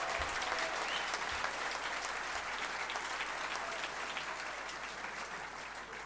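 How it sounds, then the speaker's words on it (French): An audience at a political assembly gives dense, steady applause, loud and sustained, fading slightly toward the end. "Et toi aussi, il faut t'applaudir"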